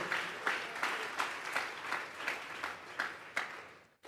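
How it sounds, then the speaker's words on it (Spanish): A church congregation claps together during a Sunday afternoon service, the applause swelling in steady rhythmic pulses about twice a second before stopping abruptly. "Vamos a darle una ofrenda de palmas a Dios en esta tarde."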